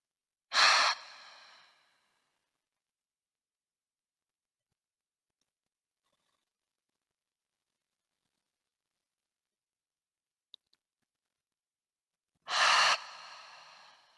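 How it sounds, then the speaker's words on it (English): Two audible open-mouth exhales during a yoga nidra breathing practice, one at the start and one near the end, both close and breathy, with near silence between them. "In through the nose and then an audible exhale."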